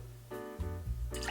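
Lemon juice poured from a jigger into a mixing glass for a Bourbon Renewal cocktail, giving a short, close liquid trickle and splash that runs for about a second without any talk.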